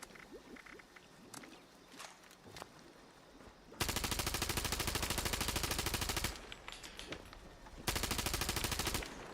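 Elder's Mark rifle in Fallout 76 firing two long sustained bursts of rapid, loud gunfire, the first running about two and a half seconds and the second following after a short gap, preceded by quieter game ambience.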